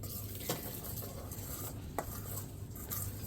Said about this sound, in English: So we're going to mix it up. Of course, in Grandpa's bowl again.